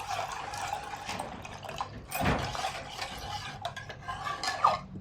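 Watermelon juice being mixed into custard-thickened milk, heard as quiet liquid sloshing and stirring with a brief louder pour or splash in the middle, close and soft with no talking.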